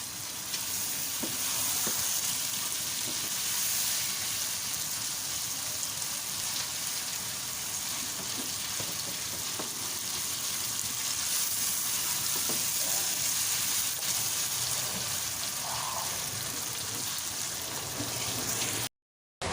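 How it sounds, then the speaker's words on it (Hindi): Ground chicken keema fries in a pan with vegetables, a steady dense sizzle that holds evenly throughout, close and moderately loud, with occasional faint stirring clicks before it cuts off at the end. "कीमा हमारा अच्छे से फ्राई हो गया"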